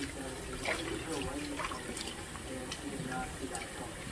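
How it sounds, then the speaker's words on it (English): Tap water runs steadily over oxtail meat in a sink, a close, continuous splashing and trickling broken by small irregular spatters. "Make sure the meat is nice and clean and clear, and as you can see, the water is getting everywhere."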